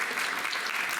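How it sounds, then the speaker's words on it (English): Dense audience applause at a live theater show performing an adventure serial, a steady wash of many hands clapping together, loud and continuous with no voices. "Let's give a big round of applause."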